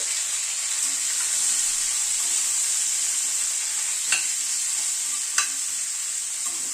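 Vegetables with salt and turmeric sautéing in a pan, a steady bright sizzle close by with a few sharp clinks of a spatula scraping and stirring, and no talking.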